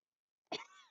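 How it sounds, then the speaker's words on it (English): One short, harsh cough rings out close after a moment of silence, with a tail of breath. "Oh no, I'm coughing."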